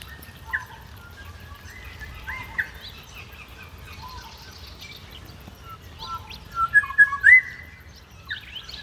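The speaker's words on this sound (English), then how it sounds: "I can't see the birds, but I can hear them" Several birds whistle and chirp in short, clear phrases at a moderate distance in the countryside of Nyngan, New South Wales, with quiet gaps between calls and a low background rumble.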